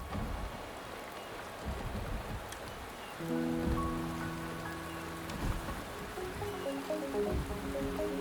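Steady rain falls in Wuthering Waves, a constant hiss of drops with faint low rumbles, while soft sustained musical tones enter partway through.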